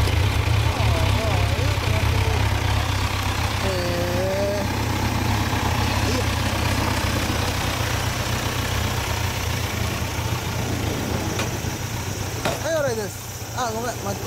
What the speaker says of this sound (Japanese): エンジン音聞かせてくれる？